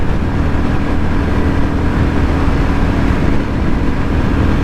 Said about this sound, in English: we got a 350 engine that's generating 20 some odd horsepower, and we're running at 70 miles an hour, and on back roads